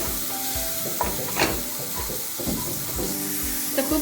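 Tomato masala fries in a pan for Sindhi dal pakwan with a loud, steady sizzle and hiss, broken by repeated scraping strokes of a spoon stirring, with no talk.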